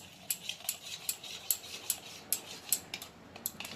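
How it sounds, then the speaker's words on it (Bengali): Spoon mixing a spiced potato filling with yogurt, beetroot and salt in a bowl, a quiet series of light, rhythmic clinks and taps, close by, with no talking. "এবার আমি ভালো করে মিশিয়ে নিচ্ছি"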